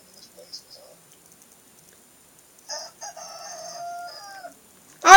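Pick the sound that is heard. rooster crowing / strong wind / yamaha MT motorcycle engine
rooster crowing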